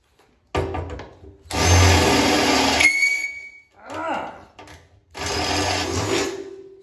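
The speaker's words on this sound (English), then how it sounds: "All right, we're all drilled out." A power drill bores holes while installing a Solobox tool tray: two loud, sustained whirring runs close by, separated by a short pause.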